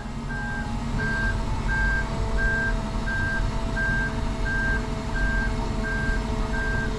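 A John Deere 750 backs up with a steady series of loud, evenly spaced reversing beeps over a constant low engine rumble, about ten beeps in a row.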